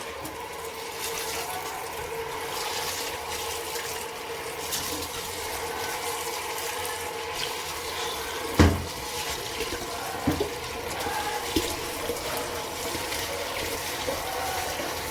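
Rice washed under running tap water in a home kitchen in Kampala, a steady moderate rush and splash of water with a few louder knocks and sloshes, no talk.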